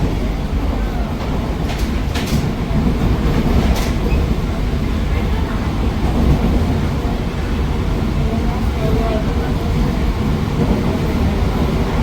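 An AC EMU electric train on the MSB to CGL route rolls along at speed, a loud, constant rumble of wheels on track heard from inside the carriage, with brief clatter.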